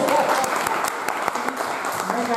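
An audience claps for a photographer at a university memorial workshop in a hall, a dense steady round of applause throughout with individual claps standing out.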